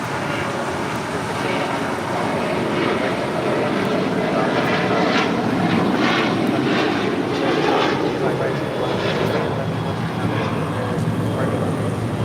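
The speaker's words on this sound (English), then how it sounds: "This is United Airlines 2480 taking off to San Francisco. 737-800." A United Airlines Boeing 737-800 takes off from LAX for San Francisco, its steady broadband jet roar sustained and loud throughout, with a voice speaking over it.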